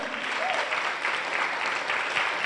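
A church workshop congregation applauding, a dense continuous wash of many hands clapping at an even level throughout, with faint voices mixed in.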